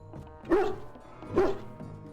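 A hound in the video game Dragon Age Origins gives two distinct barks about a second apart, close and clear against a quiet game background.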